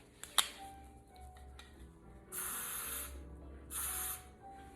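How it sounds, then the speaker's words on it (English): Two short bursts of dry hairspray from an aerosol can, each hissing for about a second, close to the mic and otherwise quiet apart from a faint click near the start. "this hairspray is pretty dry, but you do want to give it just a second"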